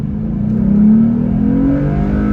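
A Jeep Gladiator accelerates hard from a slow 3 mph roll. The engine note climbs and strengthens up close over a couple of seconds, then holds at a higher pitch.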